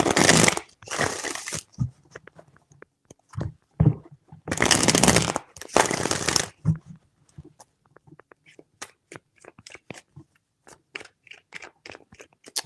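Tarot cards being shuffled by hand in a few loud riffling bursts, followed by scattered soft taps and card handling, close and without talking.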